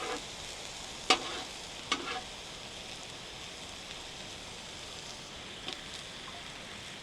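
Onions and mushrooms sizzle steadily in a pan on an outdoor cooking setup, a soft continuous frying hiss broken by a few sharp scrapes of a spatula moving them aside.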